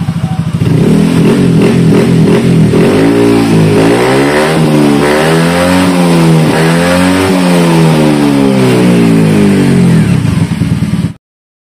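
A Honda Beat or Scoopy scooter engine, modified for bore-up, revs loudly and close up, rising and falling steadily through several long sweeps before cutting off abruptly.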